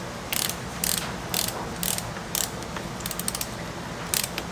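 A socket ratchet clicks in short bursts of several pawl clicks, close and fairly quiet, as it snugs a bolt down on a hot rod.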